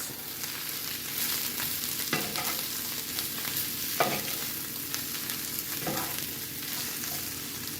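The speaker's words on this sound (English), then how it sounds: "So I'm going to stir this." Brussels sprouts are stirred in a frying pan, a continuous sizzle broken by several scraping, rustling strokes of the utensil spaced a second or two apart.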